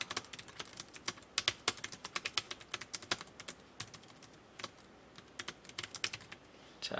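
Rapid typing on a computer keyboard, with dense irregular key clicks in quick bursts, close and crisp, with no voices.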